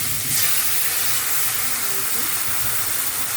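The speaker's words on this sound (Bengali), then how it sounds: "এটা দিয়ে তেলের মধ্যে কিছু কাঁচা লঙ্কা দিয়ে দিলাম" Green chilies dropped into hot oil in a new wok give off a loud, steady hiss and sizzle that stays constant and close throughout.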